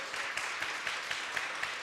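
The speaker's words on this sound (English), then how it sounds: "Shall we give them a round of applause?" Steady applause from an audience for a panel fills the whole stretch, a dense wash of many hands clapping at even loudness with no voices over it.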